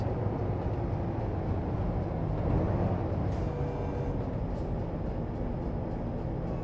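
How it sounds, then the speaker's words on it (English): A freight train crosses a small-town Louisiana road in American Truck Simulator, a continuous low rolling rumble that stays fairly steady and moderately loud for about seven seconds, with no talking. "And it's another train blocking the green light."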